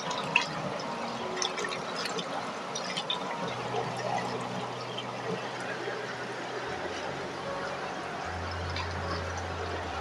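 Fish being washed with water, salt and lemon in a kitchen, with running water, wet splashing and handling sounds, and a low hum from about the middle onward.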